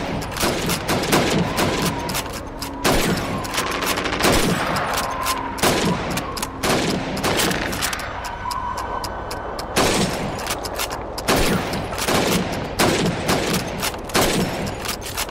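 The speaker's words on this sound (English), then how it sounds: "You have 15 seconds to shoot the helmets" Rifle gunshots at helmet targets during Red Army training in Call of Duty 2, loud sharp cracks fired one after another at an irregular pace, mixed with overlapping shots from other rifles nearby.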